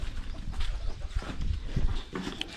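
Chickens and roosters clucking softly in an open cattle shed on a village farm, scattered short calls over a steady low rumble of outdoor noise.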